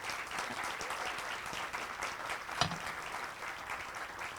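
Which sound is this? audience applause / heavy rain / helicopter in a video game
audience applause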